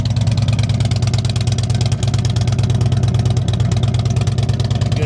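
Harley-Davidson Road King Classic FLHRC V-twin with Rinehart exhaust idles steadily at close range, a deep, even loping pulse that stays loud throughout with no speech.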